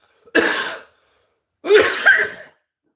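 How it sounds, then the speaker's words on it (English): Two harsh coughing bursts, close and loud, separated by a short pause, the second longer and breaking into a double hack. "All I've done is cough"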